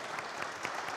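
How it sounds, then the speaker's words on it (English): An audience at a young professionals' business convention panel breaks into a brief burst of dense, steady applause. "I think we give them a round of applause."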